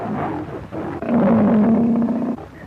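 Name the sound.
tiger roaring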